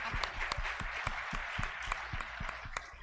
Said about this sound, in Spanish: O sea que un aplauso para ustedes.